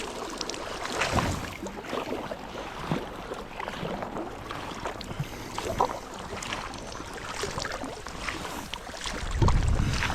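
A kayak is paddled across open water in Scotland's Knoydart, heading toward Skye, with rhythmic splashing strokes and wind gusts buffeting the microphone.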